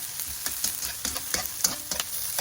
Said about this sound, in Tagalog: igigisa ko po ang repolyo